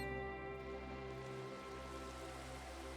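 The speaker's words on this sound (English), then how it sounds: "Rain all the way down here." Steady rain falling in Minecraft, a soft, even patter with a hiss, under a faint sustained musical hum, continuous and with no talk.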